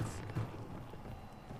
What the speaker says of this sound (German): Jetzt höre ich ein Pferd.